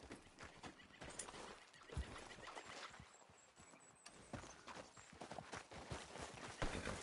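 A horse clip-clops along at a steady walk in the open-world western game Red Dead Redemption 2, hooves thudding close and clear with a brief whinny and faint background ambience, no talk.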